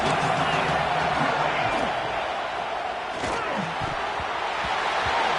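A stadium crowd roars steadily through a football game on a big third down, a dense, loud wash of cheering with a commentator talking over it.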